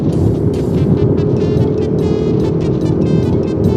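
Dirt-hauling trucks rumbling by on a road at the foot of a mountain, a loud steady engine and road roar with continuous wind noise, close and filling the scene.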